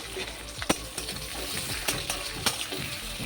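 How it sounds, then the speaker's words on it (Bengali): Chopped onion with whole cumin and bay leaf sizzles in mustard oil while a utensil stirs it, with steady frying hiss and several sharp scraping clicks against the pan, close and without talk. "ভালো করে নেড়েচেড়ে নিচ্ছি"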